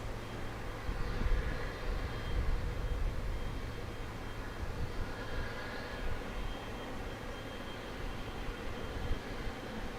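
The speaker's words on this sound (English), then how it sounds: "A 6-year-old Boeing Dreamliner now making its way over to the gates at" A six-year-old Boeing Dreamliner airliner taxis toward the gates at an international terminal, a steady broadband engine roar that stays fairly level and moderately loud throughout.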